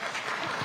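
A literary festival audience in Shillong applauds in a hall, a short wash of steady, even clapping with no voices on top.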